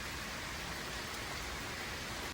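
Steady rain falls outside on a gloomy day near a gym, a faint, even hiss with no breaks and no voices.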